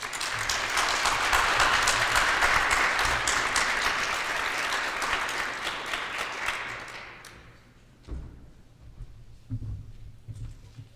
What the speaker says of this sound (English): One more round of applause for all of our speakers.